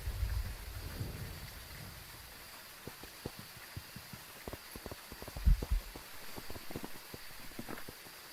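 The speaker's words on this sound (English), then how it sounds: "I don't know if you can hear it because of the rain." Steady rain falls in the Phasmophobia video game, a dense hiss carrying sharp crackling ticks and a couple of low rumbles, heard alone without voices.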